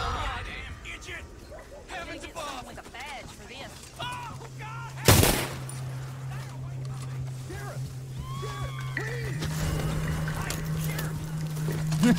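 A single loud gunshot cracks out in Red Dead Redemption 2, standing out sharply amid game ambience, voices and a low droning hum that follows.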